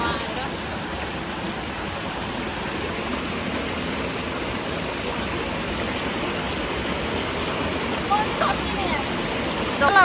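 Mountain stream water rushing steadily in a Nepali hillside river, a broad continuous wash that stays close and loud throughout, with no pauses.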